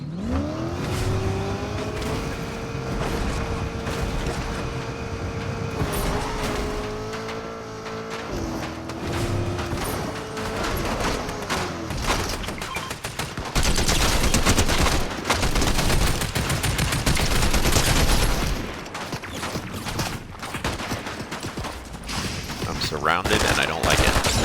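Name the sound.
gunfire shooting at car in Fortnite video game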